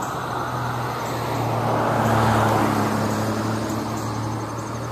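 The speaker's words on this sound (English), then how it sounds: "medium traffic, pretty low." Medium road traffic passes on 3rd Ave in a quiet residential street, a steady low hum of cars with one vehicle swelling nearer midway and then fading, no voices.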